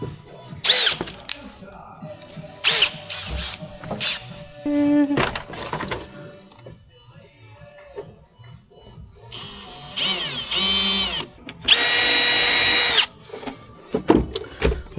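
A power drill bores a hole while a hydraulic handbrake is fitted to a BMW drift training car, with short close bursts of whirring, longer runs later and scattered tool knocks between them.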